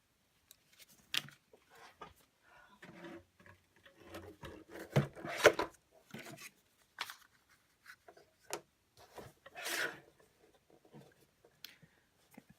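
A strip of paper being cut for an altered book, scattered close snips and rustling scrapes coming in short irregular bursts with quiet gaps between, no talking.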